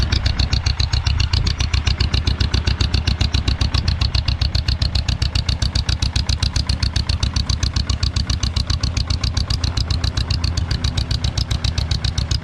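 An old tractor engine, a 1948 John Deere M or 1949 Farmall C, idles after a cold start with a loud, close, rapid and steady chugging beat that holds the whole time.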